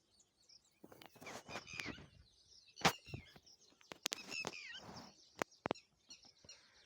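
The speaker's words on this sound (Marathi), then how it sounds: "पक्ष्यांचा आवाज, पाखरांचा आवाज, एक शांत वातावरण" Birds chirp in a quiet outdoor setting, with scattered short calls and tweets, some sharp and close, others softer, spread across a calm background with no talking.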